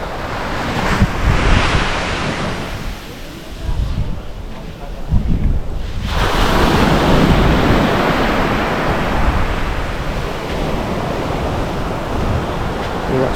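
Surf rolling onto empty Thomas Beach in Bali, a loud continuous wash of breaking waves with wind buffeting the microphone and a brief lull before the roar builds again.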